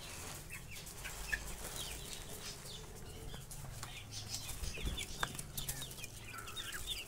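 Chickens and chicks flutter and peck nearby at feeding time, with scattered soft clucks and a few sharp peeps over quiet farmyard background.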